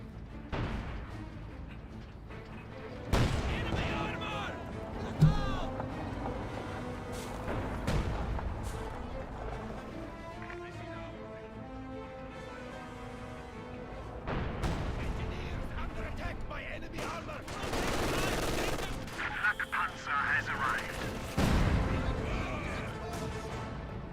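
Tank and artillery fire in Company of Heroes 2, heavy booms and blasts repeating at irregular intervals over a continuous battle din, with voices talking.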